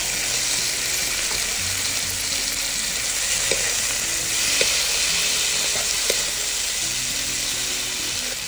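Two chopped tomatoes with salt frying in oil alongside browned onions for an egg masala, a loud steady sizzle broken by occasional stirring clinks close to the pan.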